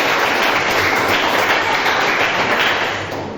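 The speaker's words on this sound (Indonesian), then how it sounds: "Tepuk tangan untuk kita semuanya." Loud, dense applause from a classroom group at the opening of a vocational high school guidance session, holding steady before easing off near the end.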